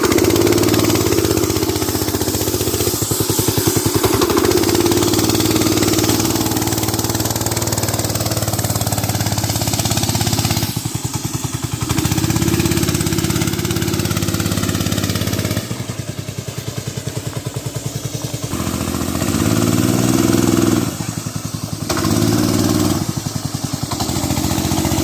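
A small engine on a homemade go-kart or cross kart runs loud and close throughout, its revs rising and dipping with the throttle in a continuous rough drone.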